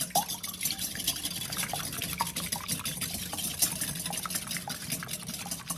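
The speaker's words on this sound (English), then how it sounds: "we are going to take our handy dandy whisk and we are going to whisk this until it is frothy" A sugar, cinnamon and almond mixture whisked by hand in a bowl gives quiet, quick, wet clicking and swishing strokes at a steady rhythm, close and soft, with no voices.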